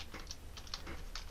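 Fingers type quickly on a computer keyboard, a faint close run of irregular light clicks over a low steady hum.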